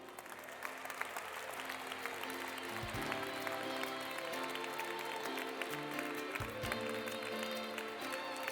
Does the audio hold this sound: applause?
yes